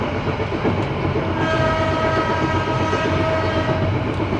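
A locomotive horn sounds on the Mutiara Timur economy train, heard from inside a carriage as a sustained tonal blast over the steady rumble and clatter of the moving train.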